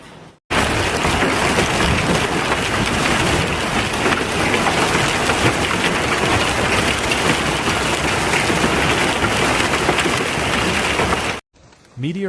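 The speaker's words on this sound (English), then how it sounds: "hailstones of considerable size bouncing violently off roads and vehicles, accompanied by powerful winds and continuous thunder" Large hailstones pound roads and vehicles in China amid strong wind, making a loud, dense, continuous roar that starts and stops abruptly, with no distinct thunderclaps standing out.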